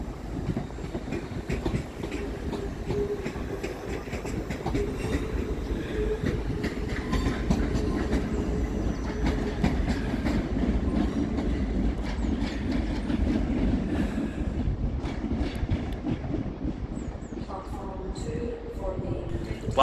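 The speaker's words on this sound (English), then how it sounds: "Departing on the far side with the 1524 ScotRail service to Bathgate is" A ScotRail class 334 electric train pulls out of Edinburgh Waverley station and rumbles steadily, with faint wheel clatter echoing under the station roof while someone talks over it.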